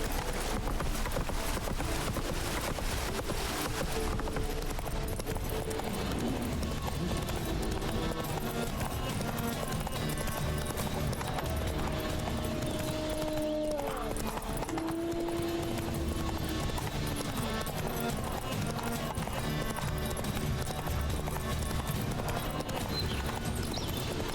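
In The Witcher 3, the horse Roach trots with continuous clip-clop hoof beats through Velen and Kaer Morhen, a loud, dense rhythm under game music, with a whinny partway through.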